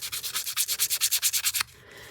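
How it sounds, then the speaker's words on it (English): A Tim Holtz sanding disc is rubbed over a photo in quick rhythmic back-and-forth strokes, about a dozen close scratchy passes, then it stops. "we're going to sand on the picture, just to give it a little tooth"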